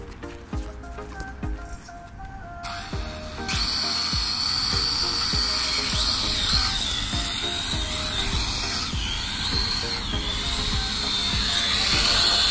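A small camera drone is launched by hand outdoors; its loud, steady high-pitched propeller whine holds near the mic and strengthens after a few seconds, with no talk over it.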